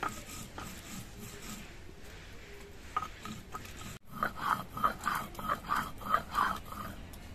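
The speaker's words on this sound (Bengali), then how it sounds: "এবার সবগুলো আমি একসঙ্গে বেটে নিচ্ছি।" Green chillies and whole cumin seeds crushed together on a grinding stone, giving close rhythmic scraping and rubbing strokes that start faint, then turn louder and regular after a short pause.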